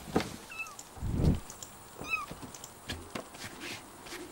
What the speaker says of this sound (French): Mon petit chaton, il va monter.